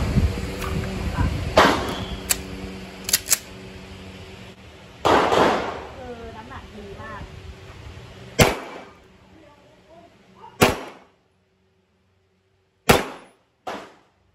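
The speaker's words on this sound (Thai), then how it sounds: "จะมายิงให้ดูช้าๆกัน" Bul SAS II air rifle fired slowly, several sharp single shots spaced a few seconds apart with metallic clicks of handling between them, close and loud, and someone talking in between.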